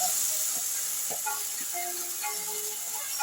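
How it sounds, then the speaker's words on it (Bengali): A paste of yogurt, poppy seeds and melon seeds hits a hot pan over a raised gas flame, giving a soft steady hiss with a few faint crackles. "গ্যাসের ফ্লেমটাকে বাড়িয়ে আমি ওই পেস্টটাকে এখানে দিয়ে দিলাম"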